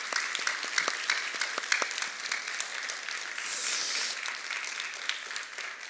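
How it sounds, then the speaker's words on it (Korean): Church congregation at a Sunday worship service in Seattle applauding small-group leaders, a sustained patter of many hands with a few sharper claps standing out. "한번 격려의 박수, 한번 감사의 박수"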